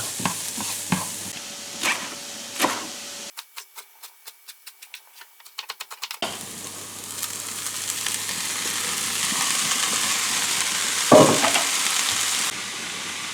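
Light clatter gives way to a run of quick knife chops on a board, cutting sorrel and nettle, then a steady sizzle of vegetables frying in a pan, growing louder.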